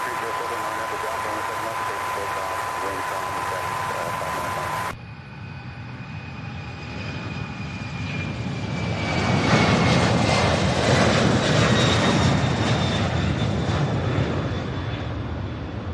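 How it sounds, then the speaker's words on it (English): A Boeing 767 jet takes off during plane spotting at Louisville airport, its engine roar building from a steady hum into a loud, broad rush that swells and holds near, with a voice talking over the start. "767 getting ready to take off, followed by an MD-11"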